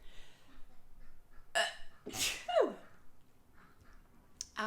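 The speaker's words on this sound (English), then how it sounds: "I'm going to sneeze, hang on." A single sharp sneeze bursts out indoors, preceded by a quick intake of breath and followed by a short vocal exclamation, all close and fairly quiet.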